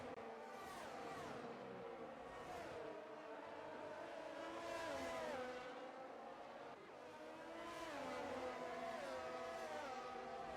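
A Ferrari racing car in a racing video game sweeps into a chicane, its engine note rising and falling through gear changes, with another car's engine sound layered in, steady and fairly loud throughout.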